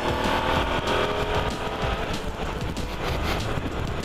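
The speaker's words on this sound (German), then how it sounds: "Oh, da fährt ein Trabi." An old Trabant with a two-stroke engine passes by on the street, a loud, rough, buzzing engine note that swells and fades over a few seconds, with no voices over it.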